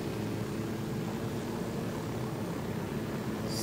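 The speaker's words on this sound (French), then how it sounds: "Bienvenue dans mon hélicoptère." A helicopter in the Ghost Recon Wildlands video game takes off, its rotor and engine roar a dense, unbroken wash at steady loudness with no voices over it.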